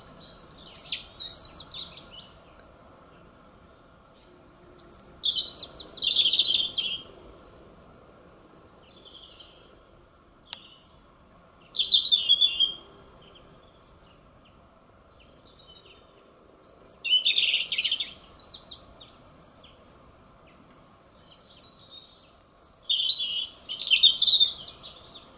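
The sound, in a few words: small birds singing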